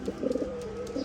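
A male pigeon coos close by in short rhythmic bursts, soft throaty notes repeating quickly, over a faint background hum.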